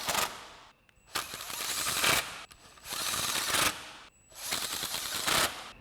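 An impact wrench fitted with a 10mm socket and extension drives screws during a headlight install on a 2014-2018 GMC Sierra 1500, firing in three loud, close hammering bursts of about a second each, separated by short pauses, with no talking.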